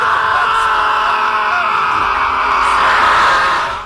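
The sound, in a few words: honey badger cries at night, like screaming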